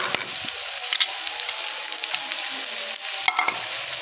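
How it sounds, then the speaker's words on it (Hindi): Capsicum and cabbage sizzle and hiss in a hot pan while being stirred, a steady close frying crackle with occasional scrapes of a utensil, no voices. "अब हमारी सब्जियां जाएंगी, शिमला और बंद गोभी,"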